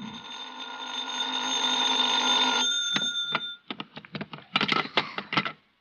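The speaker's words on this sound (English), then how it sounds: "I was still in bed when the phone rang." Radio drama sound effect of a telephone ringing, a steady electric bell tone held for about two and a half seconds, then short clipped rings and clicks as the receiver is handled, close and clear with no talk.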